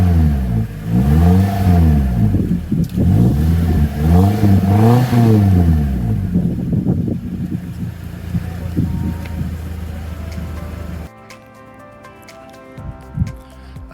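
A 2009 Japanese special-edition Suzuki Jimny in Twilight Purple Pearl, fitted with an APIO aftermarket exhaust, revs up and down in repeated swells, loud and close, then settles to a steady idle before cutting off.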